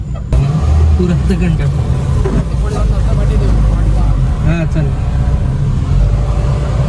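A car comes along a quiet rural road in Sindhudurg, its engine rumbling loud and close throughout, with people talking over the vehicle noise.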